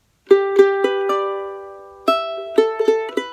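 Closing charango lead phrase of a song: a few quick plucked notes, a long ringing sustain that fades, then another brisk run of bright picked notes, played solo without voices.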